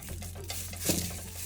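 Curry leaves dry roasting in a kadai without oil crackle and rustle as they are stirred, giving close, light scraping and crisp pops in an irregular patter, with a faint steady hum underneath.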